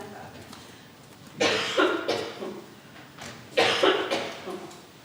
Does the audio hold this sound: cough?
yes